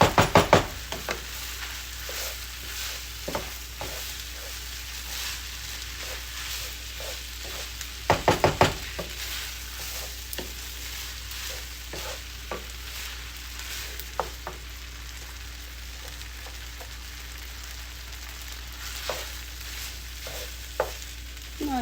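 Asian chicken fried rice being stirred and fried in a pan, a steady sizzle underneath with frequent scraping and knocking of the utensil against the pan, including a louder cluster of knocks partway through.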